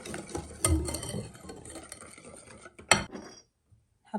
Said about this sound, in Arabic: ونخلط.